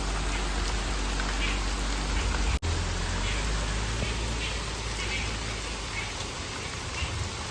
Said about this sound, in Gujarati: એની પાછળ વધારે વરસાદ છે એ બાજુ.